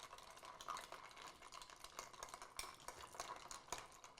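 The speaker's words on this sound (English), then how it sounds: "you're going to have to stir a little bit longer, especially if they're bigger pieces of ice" Ice clinks and rattles as a cocktail is stirred in a mixing glass, a quick steady run of faint close taps and swishes.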